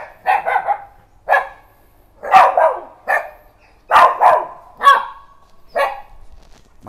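A dog barks in sharp, close bursts, about eight barks in uneven succession with short pauses between them, loud and clear with no talk.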